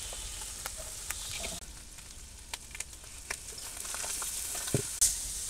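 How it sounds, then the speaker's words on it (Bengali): Ginger-garlic paste and onion paste frying in a pan, giving a soft continuous sizzle with scattered light crackles and clicks, one sharper knock near the end, close but fairly quiet. "এখন দিয়ে দিলাম আদা রসুন বাটা, দিয়ে দিলাম পেঁয়াজ বাটা"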